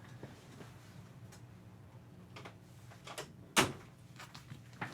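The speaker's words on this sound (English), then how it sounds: "I'm going to close the door to the studio." A studio door shuts with a single sharp thud partway through, standing out against low background hum and a few faint scattered knocks.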